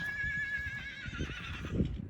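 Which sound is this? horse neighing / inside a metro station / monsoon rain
horse neighing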